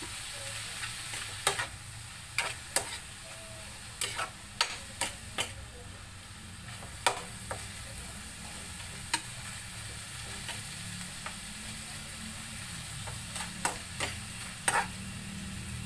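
Ground pork with carrots and potatoes stirred in a pan, giving a steady soft sizzle broken by sharp, irregular scrapes and taps of the spatula against the pan, with no talking.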